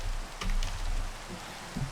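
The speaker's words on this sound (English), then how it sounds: "So I'm going to go deal with the fact that it's raining" Rain falling in a Minecraft modpack world, a soft steady patter with a few brief louder drops, fairly quiet and continuous.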